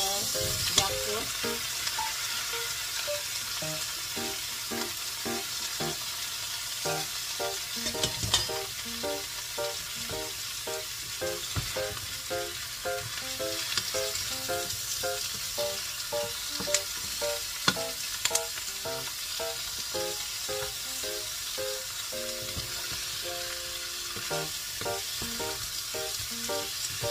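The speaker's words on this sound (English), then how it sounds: "we simmer a bit so that the oil will distribute to the fruit" Jackfruit sautéing with onion and ginger in oil, a continuous dense sizzle with a quick rhythmic ticking pulse and occasional scrapes throughout, close, with brief talk in the background.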